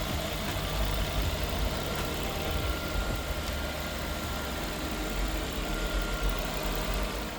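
A 3.2 litre petrol engine in a Land Rover Freelander 2 idling steadily, a constant mid-low rumble throughout with no voices.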